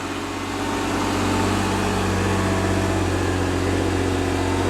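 Engine of a 4x4 car crawling up a steep slope in low gear under load, a loud, steady, close mechanical drone that builds slightly at the start and holds without talk.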